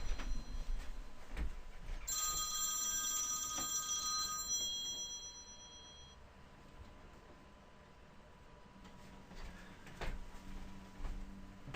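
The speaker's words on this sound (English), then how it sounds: "That phone is going to ring." A telephone rings indoors in bursts of a high electronic trill over roughly four seconds, a fainter ring trailing after, with room noise and scattered knocks around it.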